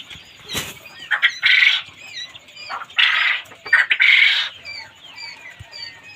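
Partridges (titir) kept as pets, a white hen and a black cock, let out three loud bursts of squawking and wing flapping close by, separated by short quieter gaps with faint calls.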